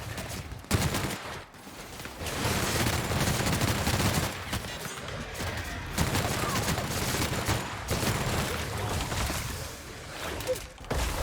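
Dense, sustained gunfire from an overpowered gun in The Outer Worlds, a rapid continuous barrage with brief pauses, loud and close throughout the clip.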